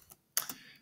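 Typing on a computer keyboard while working in the Vim text editor: a brief faint tap, then a louder cluster of close key presses, heard alone.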